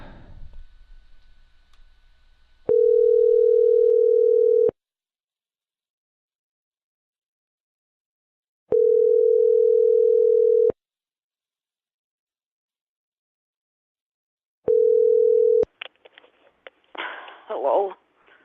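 An outgoing telephone call rings back in three long, steady tones separated by silent gaps, followed by faint rustling and a voice picking up.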